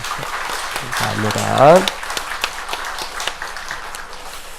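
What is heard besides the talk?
congregation applauding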